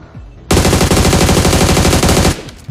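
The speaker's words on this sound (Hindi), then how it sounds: "खैर थोड़े बहुत शॉट्स वगैरह लेता हूँ, लेकिन नल्लू बच जाता है।" A loud, sustained burst of automatic gunfire in a PUBG-style battle royale game, rapid evenly spaced shots lasting about two seconds, close and dominant with no talk.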